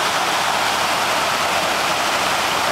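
Guinea Brook rushing over rocks, a steady, loud broadband roar of flowing water filling the whole clip without pause, close by and with no voices.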